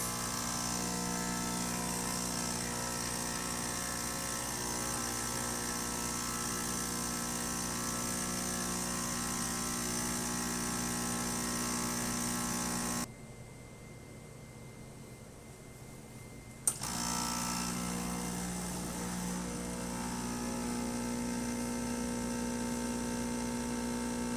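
A Profitec EXOBAR espresso machine running after a service gives off a steady, close mechanical hum. It drops out for a few seconds midway, then resumes at full level.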